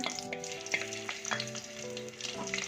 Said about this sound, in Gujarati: કટિંગ કરેલા આદુ મરચાં આપણે એડ કરીશું થોડા સંતળાય